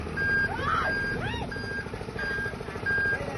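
A truck reverses with a repeating electronic backup beep sounding at a steady rhythm over a low engine idle, a few squeaky chirps and distant background noise mixed in.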